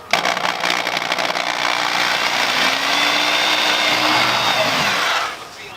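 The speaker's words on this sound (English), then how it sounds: "Then we're gonna hold it there, pop a rivet in, move to the next spot, drill it, pop the rivet" Power drill running steadily for about five seconds while boring rivet holes through a panel fitted to a car, a loud continuous whine close by that cuts off abruptly at the end.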